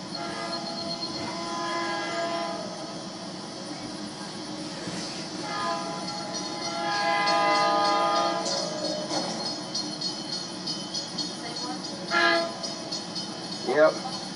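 A Norfolk Southern freight train passes through Salisbury, North Carolina, its rumble building as the horn blasts in sustained tones, with people talking nearby.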